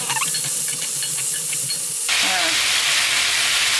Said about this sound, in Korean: 양파에서 물이 나오잖아요. 그러면 물을 안 부어도 되고 수분이 보충이 되니까 이렇게 해서 볶아줍니다